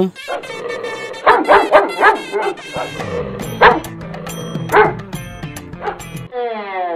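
A dog gives a series of short, close barks and yips in an uneven rhythm, with a person talking between and over them, in a comic home setting.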